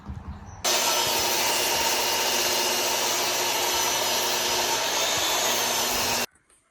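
A saw ripping a wooden shim strip for leveling a floor joist, a loud, steady whining cut lasting several seconds that starts and stops abruptly, with nobody speaking.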